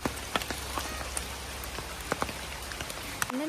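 Steady rain falls on a hard surface nearby, a dense even patter broken by sharper individual drop hits, with no voices.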